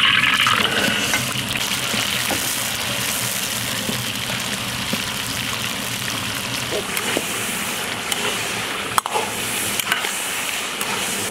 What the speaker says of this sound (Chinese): 现在上锅炒。 锅里多倒点油，下入剁好的牛肉